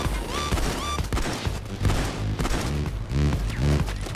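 PayDay 2 heist shootout with loud, dense gunfire, quick repeated shots in clusters over a thick background of combat noise, close and continuous.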